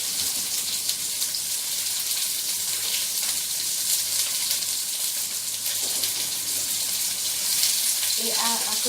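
Duck hearts hiss and crackle in a hot frying pan, a continuous bright sizzle close up, with a brief clink near the end.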